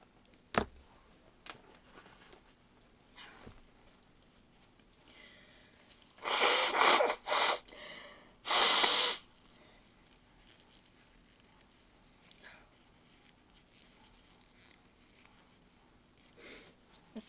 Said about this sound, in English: I'm gonna have to blow my nose again